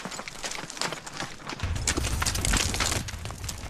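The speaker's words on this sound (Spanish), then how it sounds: "a lomos de un caballo" Horse hooves clip-clopping while riding near the Egyptian pyramids, a steady close rhythmic thudding with rustling and wind, growing louder in the second half.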